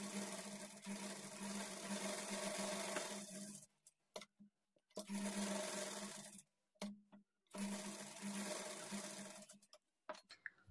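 A sewing machine stitches a lining blouse in three separate bursts of steady, close mechanical whirring, each a few seconds long, with short pauses between them.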